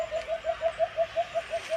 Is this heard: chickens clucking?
no